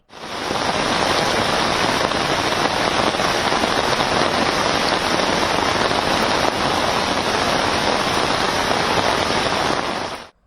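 Heavy rain pours in a dense, loud, unbroken roar of drops hitting surfaces, steady from start to finish with no voices.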